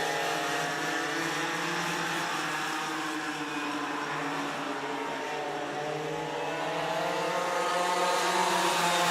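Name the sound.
go-karts racing at a karting speedway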